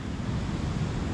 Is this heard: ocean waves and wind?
yes